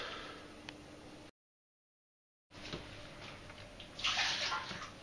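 Water pours steadily into a container being filled with 10 litres for ginger beer, a close rushing splash interrupted by a short silent gap, then resuming and growing louder.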